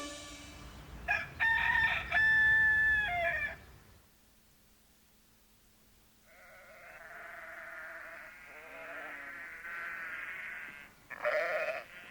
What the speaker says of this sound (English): Hey, little cockerel, how do you do? Quite well, thank you, cock-a-doodle-doo.